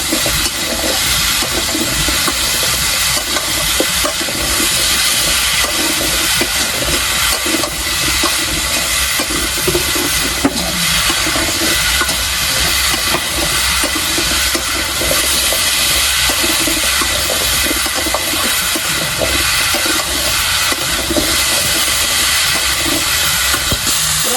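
Large potatoes frying in a pan, a loud, constant hissing sizzle that runs steadily throughout with no breaks or talking.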